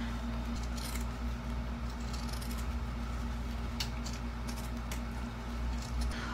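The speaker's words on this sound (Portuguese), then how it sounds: "Vou continuar com a tesoura de picote" Pinking shears snipping through fabric while a cloth whale toy is made, close-up crisp cuts in an irregular run over a steady low hum, with no talking.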